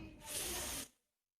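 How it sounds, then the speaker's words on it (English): A short, close burst of aerosol cleaner sprayed into a car's air intake, a steady hiss lasting under a second before stopping abruptly into silence. "I'm going to spray it into the pitot tube here"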